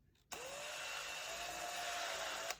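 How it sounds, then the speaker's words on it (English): A power drill bores into a hard irrigation pipe, starting abruptly and holding a steady high whine for about two seconds before stopping, loud and close with no voices. "So the first thing I'm going to do is drill a hole."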